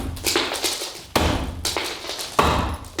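Three sharp, heavy strikes against a double-glazed window being smashed, each a loud thud with a brief crack, spaced about a second apart with glassy rattle between.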